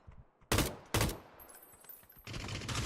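Machine gun fire during a video game firefight: two sharp loud cracks close together, followed by quieter scattered noise and then a sustained burst of rapid fire toward the end.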